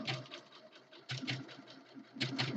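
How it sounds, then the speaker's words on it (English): A sewing machine stitches a quilt in quiet, rapid mechanical bursts, stopping and starting in short runs at low volume. "The nice thing about the sewing machine is that I have a button that actually puts my needle up and down."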